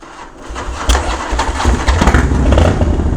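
A Harley-Davidson Dyna Low Rider S motorcycle engine cranks and fires, building from a low churn into a loud, rough, rumbling idle with uneven throbbing pulses close by.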